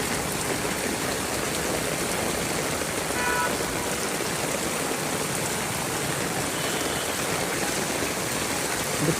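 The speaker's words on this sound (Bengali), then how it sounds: "ঢাকায় চরম বৃষ্টি, প্রচণ্ড গরমে আরামদায়ক চরম বৃষ্টি।" Heavy monsoon-style downpour in Dhaka, a dense, steady hiss of rain pouring down close by, unbroken and loud for the whole stretch with no voices.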